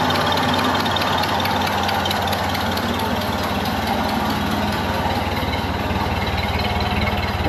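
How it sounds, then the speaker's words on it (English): A 1931 Ford Model A engine idles smoothly and steadily, a close, even low mechanical chug with a fast regular beat that stays constant throughout, with no voices over it. "There is absolutely no smoke coming out the exhaust, and it's running smooth."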